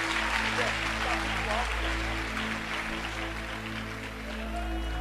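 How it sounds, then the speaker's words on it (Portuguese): A church congregation claps together to praise Jesus during a Portuguese-language service, a broad steady wash of applause running over a low sustained organ or keyboard hum for the full stretch. "os que podem, tomem o seu assento aplaudindo a Jesus"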